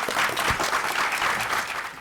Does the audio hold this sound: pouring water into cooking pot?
no